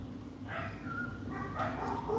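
Dogs bark and yip at a moderate distance in a few short bursts over a low steady background hum.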